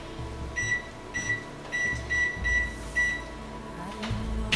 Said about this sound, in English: We're gonna preheat the oven at 425 and I'll have my assistant do that for me.